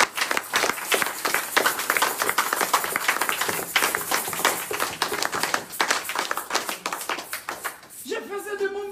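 A church congregation breaks into dense, sustained clapping and cheering, loud and close throughout, with a brief vocal sound rising at the very end.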